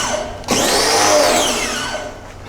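A pressure washer used for washing a Mustang starts up with a loud, close motor whine that rises and then slowly falls in pitch over a couple of seconds.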